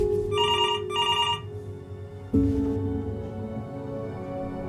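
Old-style telephone bell in the game Before Your Eyes rings in two loud metallic bursts over a low ambient music bed, then a deep thud and sustained tone follow.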